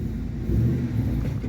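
A Mercury Mountaineer backing out slowly with a suspected worn wheel bearing, giving a steady low rumbling drone close by with no talk over it.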